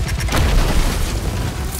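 Booming explosion from the fighting game Marvel vs Capcom Infinite, a loud sustained low rumble with crackling bursts lasting under two seconds, no talk over it.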